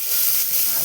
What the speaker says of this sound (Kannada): ಹಾಕಿ ಸ್ವಲ್ಪ ಫ್ರೈ ಮಾಡ್ಕೊತೀನಿ.